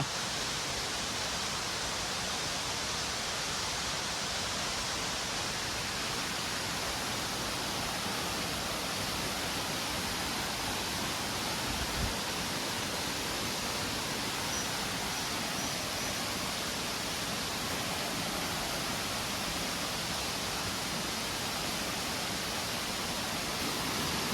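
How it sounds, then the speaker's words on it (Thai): A small forest waterfall in Chiang Mai during the rainy season, a steady broadband rush of falling water that stays even and unbroken throughout, with no voices over it. "เป็น น้ำตกเล็ก ๆ นะ ครับ แต่ว่าอยู่ในธรรมชาติแต่ว่าสวยดีครับ"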